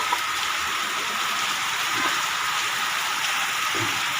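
Heavy rain pours down steadily during a monsoon storm, a dense, even hiss with a few faint patters, continuous and enveloping for the full stretch with no voices.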